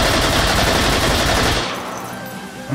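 Rapid sustained bursts from a light machine gun in the shooting game H3VR, loud and close for about a second and a half, then cutting off into a ringing tail.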